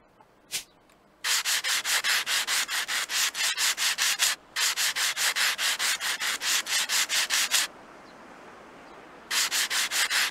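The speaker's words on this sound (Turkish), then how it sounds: "At zımparayı." A sander works a surface during a train station renovation, giving loud, close, rapidly pulsing strokes in three long passes separated by short pauses, with no voices.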